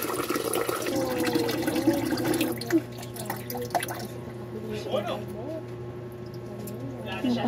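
Water poured and dripping while cooking rice, splashing and trickling close by under people talking.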